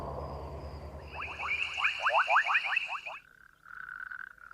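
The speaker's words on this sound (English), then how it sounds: "The male coqui frog has a two-part call" A male coqui frog gives a rapid series of chirping croaks over low background hum, followed by a steadier, lower tonal note. The call is moderately close and heard alone without speech.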